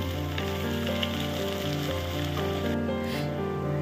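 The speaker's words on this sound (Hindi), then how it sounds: "फ्रेंड्स बेल पेपर मेरा ऑलमोस्ट फ्राई हो चुका है" Bell peppers fry in a pan for a mixed vegetable dish, giving a steady, even sizzle that holds close and constant with no talk over it.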